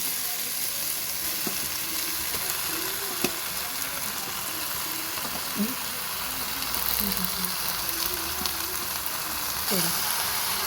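Chicken sizzles and fries in tomato masala in a pan for chicken curry, a constant bright crackle broken by repeated scraping strokes and clinks of a spoon stirring close by.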